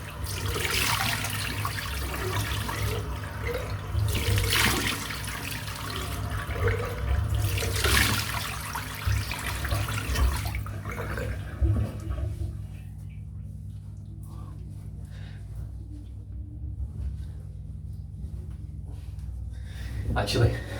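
Steady spraying water from a bin cleaning service, a continuous hissing wash that is strong at first and then thins to a quieter rushing, with a person talking over it.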